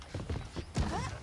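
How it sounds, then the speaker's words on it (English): Horse hooves clip-clop in Red Dead Redemption, a Wild West video game, in a short burst of trotting steps mixed with game sound and a faint voice. "The horses are saddled up over here."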